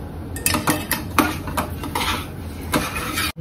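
A metal spoon mixes chopped dry fruits and crushed cardamom powder in a pot, giving a series of irregular clinks and scrapes against the metal, moderately loud and close, with no talking.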